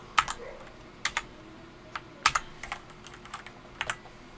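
Keys clack on a computer keyboard while a Python list is typed, short scattered bursts of taps with pauses between, close and fairly quiet.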